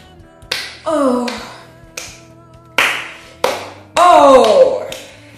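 Hands clap in sharp, separate bursts, some single and some in short flurries with uneven gaps between them, loud and close. A drawn-out voice or tone rises and falls underneath between the claps.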